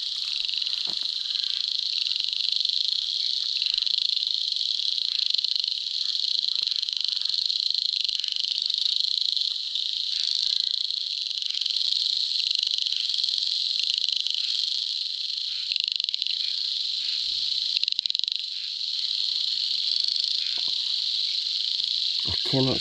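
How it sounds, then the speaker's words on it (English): Loud, dense chorus of frogs calling near a body of water, a continuous high trilling drone that holds steady throughout with no pauses. "Can you hear all the frogs?"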